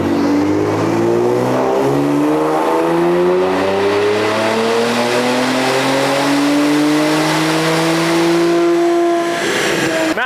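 A tuned Nissan VR30 twin-turbo V6 running E30 fuel roars through a full Map 5 dyno pull, its engine note climbing steadily in pitch, very loud and close, before cutting off abruptly at the top.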